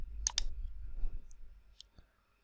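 A computer mouse clicks while opening Windows 10 settings, two quick close clicks at the start and a couple of fainter clicks later over a low hum, with no talking.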